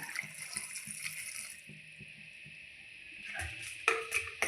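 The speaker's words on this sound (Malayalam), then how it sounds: "ഇതിലേക്ക് നമുക്ക് ഒരു ഗ്ലാസ് വെള്ളം ഒഴിച്ചു കൊടുക്കാം." A glass of water is poured into a cooking pot of raw plantain pieces set on the stove, giving a short, soft splashing pour followed by quieter handling noises.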